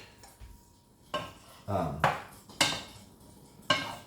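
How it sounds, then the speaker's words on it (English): Mushrooms get stirred in a pan for a mushroom sauce: a handful of separate utensil scrapes and clinks against the cookware, with short gaps between them, close and fairly quiet. "let me stir that up real quick"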